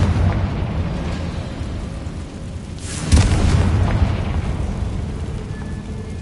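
A Confringo explosion spell goes off in a Harry Potter video game: a heavy, rumbling blast with a sharp burst at its peak, sitting atop a continuous loud roar of game sound.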